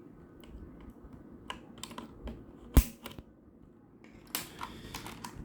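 Keys clack on a Machenike K600 budget 96% mechanical keyboard with fixed, non-swappable switches: quiet, irregular typing taps with a few sharper, louder strokes spread across several seconds.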